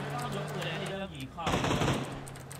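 Automatic gunfire from PUBG bursts out loudly midway, a dense rattling volley lasting about half a second amid game background noise.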